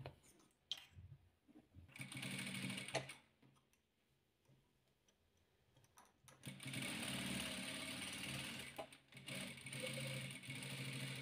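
A sewing machine stitches squares of quilt fabric for a 3D quilt, running in two bursts: a short run early on, then a longer steady whir after a pause, close by with no talking.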